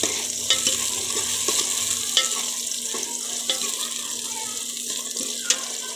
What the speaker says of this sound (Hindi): इसको हिला लेंगे अच्छे से, ताकि ये भी जो है अच्छे से इसके साथ पक जाएं।